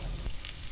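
Chopped onions dropped into a hot pan for porridge, giving a brief, close burst of frying sizzle and crackle, with no talking.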